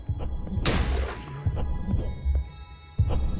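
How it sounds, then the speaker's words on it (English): Heartbeat in the Hyper Light Drifter video game: soft low thumps spaced irregularly over a faint hum, with one sharper, brighter impact early on. "that's a heart. We heard a heartbeat before."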